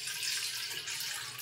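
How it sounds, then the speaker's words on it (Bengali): Water from a tap runs into a bowl to mix oat flour in a home kitchen: a steady, moderately close hiss of flowing water with no talk. "ফার্স্টে আমি একটা বলে কিছুটা জল নিয়ে নেব।"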